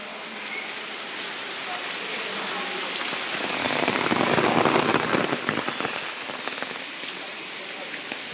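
Water drips and flows inside caves after rain, a dense, steady splashing wash that swells louder in the middle and then eases, close and continuous with no voices.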